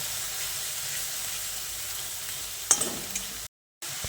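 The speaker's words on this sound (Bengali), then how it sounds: "তারপর টমেটোর শাঁসটা দিয়ে আরও কিছুক্ষণ ভেজে নিচ্ছি।" Onion and tomato pulp sizzle steadily in hot oil for a capsicum dish, a close, even hiss broken near the end by a few sharp stirring clatters and a brief gap.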